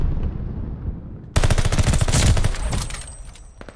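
Rapid automatic gunfire erupts abruptly and loudly in a tactical bomb-planting video game shooter, a dense crackling burst of shots that continues with scattered reports before tapering off.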